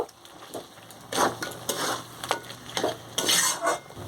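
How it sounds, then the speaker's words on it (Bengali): A spoon scrapes and stirs chicken through spice masala in a hot pan. The close, uneven strokes come in bursts over a soft sizzle. "চিকেনটার সঙ্গে সমস্ত মশলাটা ভালো করে মিশিয়ে নেব।"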